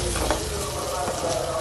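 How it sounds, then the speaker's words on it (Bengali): Polao rice fries in a pan, a loud, dense, unbroken sizzle with scraping stirs, close by and with no voices over it. "এখন পোলাও চালটাকে ভালোভাবে ভেজে নিব।"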